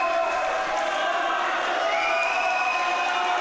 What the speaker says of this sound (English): And everyone cheering now, both in the stands and on the pool deck